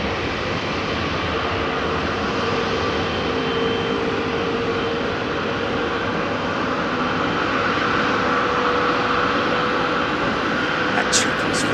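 A jet aircraft departs from Heathrow Airport, its engines a broad, steady roar that holds loud and unbroken throughout, heard from a distance outdoors.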